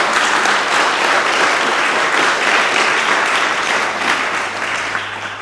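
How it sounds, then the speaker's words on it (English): Sustained applause from the audience at a city council candidate forum, a steady dense patter of many hands clapping close by for several seconds before tapering slightly at the end. "Let's applaud the candidates for stepping up and running for city council"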